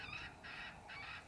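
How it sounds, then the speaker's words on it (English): Three short wild turkey calls sound from a distance in a quick series, faint above a low outdoor rumble. "Hear the turkeys?"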